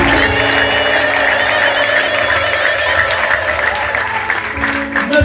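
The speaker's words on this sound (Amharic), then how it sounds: "አጨብጭቡ ለጌታ" A church congregation claps together in a sustained, loud wash of applause with voices and music-like tones mixed in throughout.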